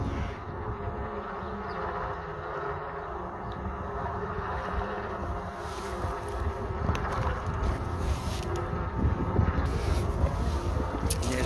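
Steady outdoor wind blowing and buffeting around a coastal defence tower and radar station in Malta, a constant broadband rush throughout, with gusts swelling slightly louder toward the end.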